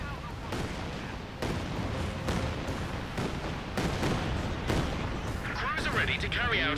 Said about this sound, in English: So many mortar rounds going all across all the place.